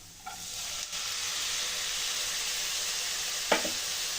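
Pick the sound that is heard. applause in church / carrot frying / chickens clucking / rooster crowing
carrot frying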